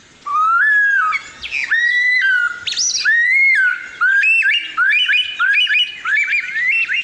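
A male superb lyrebird in the Dandenong Ranges of Victoria pours out loud, close mimicked calls, sliding whistles, chirps and squawky notes in rapid varied phrases with brief pauses.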